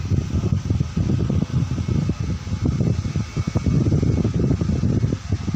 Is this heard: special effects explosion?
no